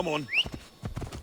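Horse hooves beat a quick, rhythmic clip-clop as a rider sets off in the video game Assassin's Creed Odyssey, with a short spoken line over the start.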